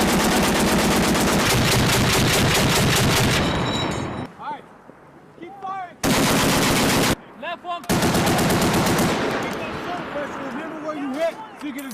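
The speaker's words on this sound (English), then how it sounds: "anti-aircraft, anti-vehicle and anti-personnel machine gun that's closer in power to a small cannon" An M2 heavy machine gun, a large-calibre anti-aircraft and anti-vehicle weapon, fires long sustained bursts of rapid, evenly spaced, loud reports. Short pauses separate the bursts, and faint shouts from the crew come through during the gaps.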